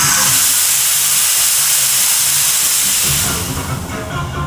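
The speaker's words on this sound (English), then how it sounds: "I didn't have enough air pressure to run it because my air hose has a giant hole in it" Compressed air rushes from a large hole in an air hose feeding a sandblaster, a loud steady hiss close to the ear that roughens and shifts slightly in the last second.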